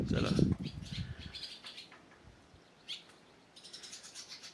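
A bird calls outside in open, windy countryside. Faint, thin chirps repeat over the hiss of wind, and a louder gust rumbles at the start.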